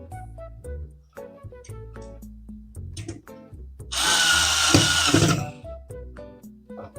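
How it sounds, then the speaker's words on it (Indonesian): A power drill driving screws into a PC case during a desktop build with a Ryzen 7 7800X3D, a loud steady whir lasting about a second and a half, set among lighter clicks and handling noises of the assembly. "Ini kalau ada derdet gitu berarti emang si bor gua torsinya kurang jos guys"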